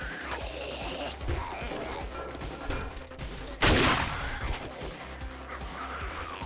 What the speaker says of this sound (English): We're just gonna clean the house up with the shotgun.